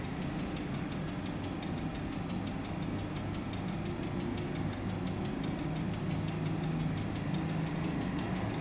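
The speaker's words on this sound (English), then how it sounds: "You can hear the little tick-tack of the engine blades spinning in the wind a little." A faint, regular ticking of windmilling Airbus A320 jet engine blades runs through a steady low rumble, with no other sounds standing out, in the flight simulator Prepar3D.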